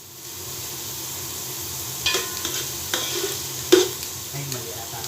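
Onion sautéing in a hot pan for a shrimp dish, a steady close sizzle with intermittent scraping stirs and one sharp utensil clack.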